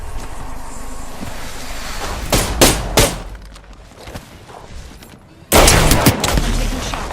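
Bursts of gunfire in the video game Apex Legends, several sharp rapid shots in a cluster, then a loud sustained volley near the end over windy background noise.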